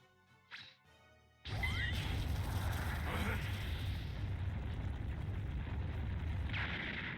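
An explosion in the Dragon Ball Z Kakarot video game: after a short whooshing sound, a sudden loud blast breaks in and continues as a sustained, roaring rumble with sweeping whooshes until the end.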